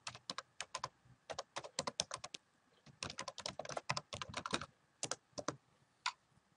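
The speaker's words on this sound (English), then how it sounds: "And I'm going to get to that by going back to the search tool. And I'm going to type in" Fingers type on a computer keyboard in quick, uneven bursts of crisp key clicks, close and clear with a short pause partway through, and no one speaks.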